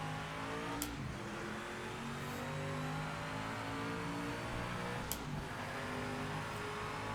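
Race car engine in the racing game Project Motor Racing, a continuous droning rev that holds steady at high pitch for several seconds, with a couple of faint ticks over it.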